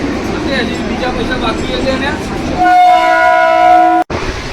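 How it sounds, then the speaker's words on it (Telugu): A Mumbai local commuter train pulls in amid station chatter, then a loud, steady two-tone horn blares for over a second before cutting off abruptly. "ఇదిగోండి మన ట్రైన్ అయితే వచ్చేసింది."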